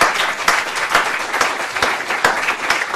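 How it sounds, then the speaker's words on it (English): Audience applause at a talk on prosecuting rap, dense, sustained clapping that swells in soft pulses, moderately loud and filling the room. "I think just give her a round of applause."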